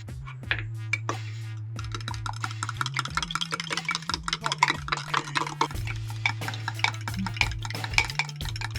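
Egg being scrambled in a pan for Thai shrimp curry, rapid clicking and scraping of a utensil against the pan over a low steady hum, close and busy throughout.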